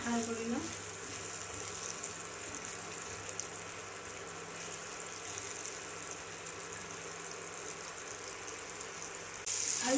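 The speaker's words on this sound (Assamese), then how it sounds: "প্ৰথমতে আলুটো ফ্ৰাই কৰি ল'ব লাগে।" Potatoes frying in oil in a pan give a steady, moderate sizzle that continues for several seconds. A voice is heard briefly near the start.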